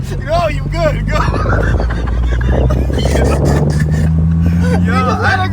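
A Honda S2000 engine revs and accelerates hard in third gear, a loud sustained drone with a slowly rising pitch inside the car, under excited voices talking throughout.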